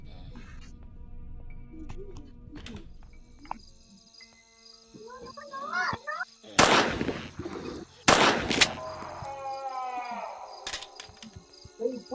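Two loud, sharp shotgun blasts ring out in a game, each with a short echoing tail, amid scattered electronic effects and faint voices.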